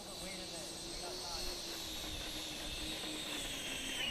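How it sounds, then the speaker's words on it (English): A steady, high-pitched turbine whine from a model jet engine in an Xfly J65 Gulfstream RC plane running continuously on the ground, with a constant roar underneath. "That's a big airplane. Oh, it sounds great."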